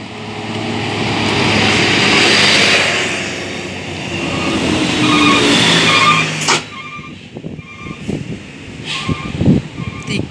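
A large bus in a convoy of eleven passes nearby, engine roar swelling loud and broad, then fading out with a hiss of air brakes, followed by lighter traffic noise and clicks.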